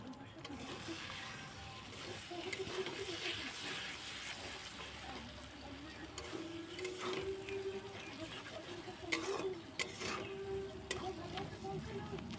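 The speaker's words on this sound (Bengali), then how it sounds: "ডিমটা দিয়ে এবার ভাজতে থাকবো কিছুক্ষণ" Two eggs frying with spices in a hot pan make a steady, low sizzle with occasional stirring clatter and a faint tonal hum, while someone talks over the cooking.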